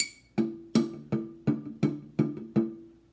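Homemade drum built from a sauerkraut jar with a skin stretched over it, struck about eight times in a steady rhythm, each hit a low, resonant thump with a short ring, close and alone.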